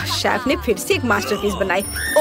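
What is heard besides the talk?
alarm clock ringing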